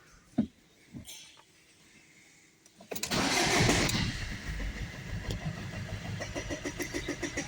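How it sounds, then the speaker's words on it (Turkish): A Fiat Doblo with a replaced glow plug relay cranks briefly after a few faint clicks, then its engine catches with a loud burst and settles into an uneven, rhythmic idle nearby. "Arabayı çalıştırdık."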